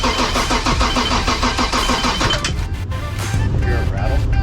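A BMW E30 Touring car engine cranks with a fast, rough churning and metallic rattle, then catches and settles into a low idle, close by.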